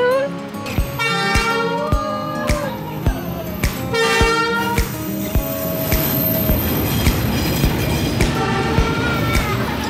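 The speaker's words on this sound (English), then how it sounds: "The train was like 2 feet from us." A train in Vietnam rumbles past very close, with loud clattering wheels, screeching squeals and repeated horn toots over a steady roar.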